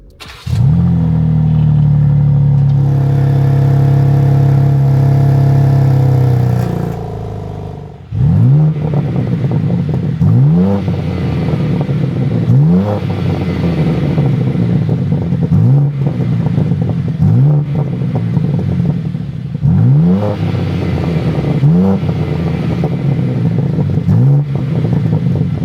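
BMW M3 Touring engine heard while driving: a steady loud drone at first, then repeated rising revs through the gears, each pull climbing and dropping in a rhythmic cycle, close and continuous with no talking.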